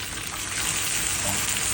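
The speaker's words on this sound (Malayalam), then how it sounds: "നമ്മളിപ്പോൾ ഈ ടാപ്പ് തുറക്കുമ്പോൾ അത് മോട്ടർ ഓണാവും." Water gushes steadily from a tap fed by a rainwater tank pump system, a constant hissing flow that stays loud and even throughout, with no speech.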